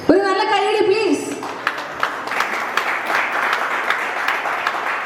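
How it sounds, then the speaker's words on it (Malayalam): Wedding reception guests break into applause as the bride and groom garland each other, a steady wash of clapping swelling after a short spoken announcement over a microphone. "ഒരു നല്ല കൈയടി പ്ലീസ്."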